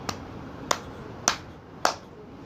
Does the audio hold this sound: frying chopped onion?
no